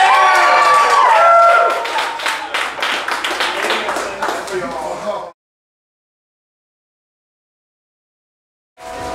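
Crowd claps and cheers loudly for the first band at a battle of the bands in the Black Sheep Cafe in Springfield, Illinois, with shouts mixed in, fading after about five seconds into silence before noise returns.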